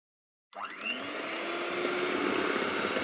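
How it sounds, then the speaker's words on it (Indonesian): An electric mixer on its lowest speed whirs through brownie batter, starting abruptly and settling into a steady, close, continuous drone with a faint rising whine, with no talk over it. "Kemudian kita mixer kembali dengan speed paling rendah."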